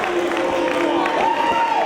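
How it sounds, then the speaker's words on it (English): A wrestling arena crowd reacts during a Bryan Danielson versus Samoa Joe match, a steady mass of cheers and jeers with scattered clapping, overlaid with sustained whistle-like tones. "The crowd either cheering or booing Danielson for that tactic."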